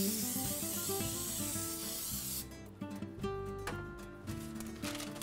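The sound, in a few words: cooking spray sprayed inside a cake pan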